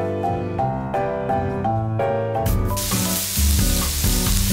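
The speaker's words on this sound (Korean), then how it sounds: "지글지글 소리까지 맛있게 나죠?" Thick slices of meat grill for a home meal, starting with light music and then breaking into a loud, steady sizzle that fills the second half.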